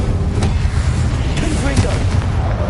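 Spell blasts from Confringo and Incendio in the Hogwarts Legacy video game, a dense run of booming fiery impacts and crackling bursts layered over a voice shouting spell names.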